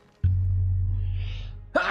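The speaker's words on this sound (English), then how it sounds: "Oh man, I gotta sneeze." A single human sneeze bursts out sharply, then a short held breathy exhale follows before another quick vocal burst at the end.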